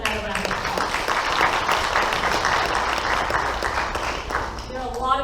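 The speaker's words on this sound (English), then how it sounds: "Let's give them another round of applause." An audience at a Bossier Parish school board meeting applauds in a full, sustained round of many hands clapping steadily, with a few voices mixed in near the end.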